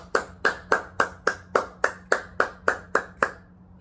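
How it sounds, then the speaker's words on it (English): Hand clapping by one person: eleven sharp, evenly spaced claps in a steady rhythm, close and clear, alone with no talking. "Round of applause, man."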